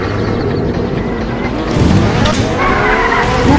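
Car tires skid and squeal loudly in the Roblox Mad City video game, a harsh sustained screech over rumbling engine noise that grows rougher partway through.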